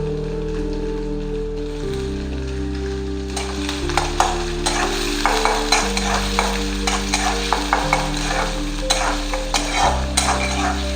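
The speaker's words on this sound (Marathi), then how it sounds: "तेल तापले. आता मी त्याच्यामध्ये कांदा टाकून घेतेय" Chopped onion dropped into hot oil for veg Manchurian, a loud, close sizzle that swells as the pieces hit and keeps crackling with stirring clicks throughout.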